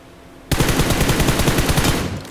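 Rapid automatic gunfire in BGMI rings out loud and close, a dense burst of shots starting abruptly and running for about a second and a half before cutting off, with no talk over it.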